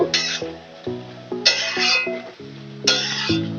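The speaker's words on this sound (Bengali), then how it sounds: "নেড়ে দেব" A spoon stirs bottle gourd curry in a pan: repeated scraping strokes with bright metallic clinks and ringing against the pan, close up, over a faint background sizzle.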